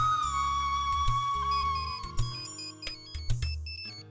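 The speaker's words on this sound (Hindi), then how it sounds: "दीदी, आपका फोन बज रहा है" A mobile phone plays a melodic ringtone indoors, with a steady repeating tune and clear, moderately loud tonal chimes that carry on for several seconds.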